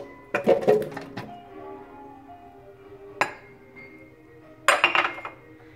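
Fresh strawberries tumble into a blender jar, making a cluster of clinks and knocks against the glass, then a single sharp tap and a final burst of clatter, close and fairly loud in a quiet kitchen.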